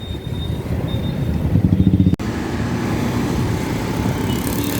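Road traffic of auto rickshaws and motorbikes on a city street near a cycling lane, a continuous close engine rumble and drone heard from a moving bicycle, with a short rhythmic throbbing burst partway through.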